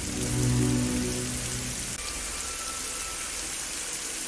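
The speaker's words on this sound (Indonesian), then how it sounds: "Di tengah hujan" Steady rain falls on surfaces outdoors, a dense hiss that starts under a fading low hum and then continues alone at moderate level.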